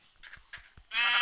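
A sheep bleats close by in a farmyard, a few short nasal calls followed by a longer, louder bleat at the end, with no talking.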